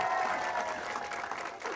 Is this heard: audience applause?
yes